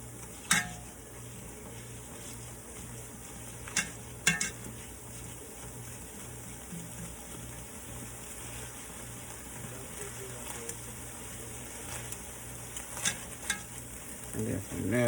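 Rice cooks in extra virgin olive oil in a pan, giving a soft, steady sizzle throughout, with occasional light clinks and scrapes of stirring.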